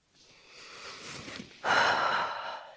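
One slow, deep breath close to the mic, starting as a soft, gradually building inhale and then turning into a louder, rushing exhale, heard on its own without talk.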